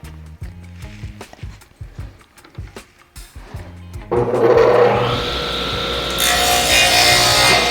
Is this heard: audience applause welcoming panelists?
no